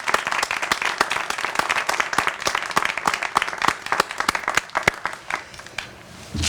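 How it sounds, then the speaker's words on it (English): A crowd applauds at a street ribbon-cutting ceremony on West Jackson Street, steady dense clapping from many hands that thins slightly near the end. "I think everybody here can give a round of applause."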